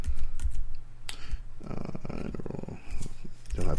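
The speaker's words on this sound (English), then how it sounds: "Don't have to type the word interval, just type in the number you want." Keystrokes on a computer keyboard while a command is typed at a command prompt, arriving as scattered clicks and short bursts. They sound close and moderately loud, and a voice talks through much of the clip.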